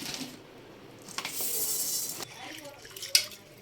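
Water swishes and splashes in a bowl as basmati rice is rinsed, with soft clinks and a sharp knock, close and fairly quiet.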